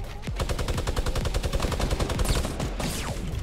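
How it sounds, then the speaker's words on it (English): Rapid automatic gunfire from a Fortnite match, a dense, loud stream of evenly spaced shots with no pause and a couple of sweeping whooshes layered on top, and no talking. "Just don't stop shooting."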